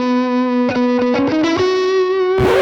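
An electric guitar played through an IK Multimedia Tonex amp model: a sustained distorted note rings while a quick series of picked chords and muted strums cuts in, then a bright crashing strum ends the phrase.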